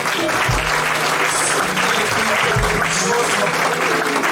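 A church congregation bursts into applause of acclamation for the Lord, a loud, continuous wall of clapping with crowd noise and low thumps mixed in, sustained throughout.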